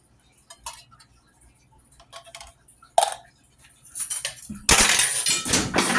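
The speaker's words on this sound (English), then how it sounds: "And we're going to add the mushrooms to our Philly cheesesteak." Mushrooms tipped into a pan of Philly cheesesteak meat, heard as scattered metal clinks and knocks, then a sudden loud sizzle that keeps going.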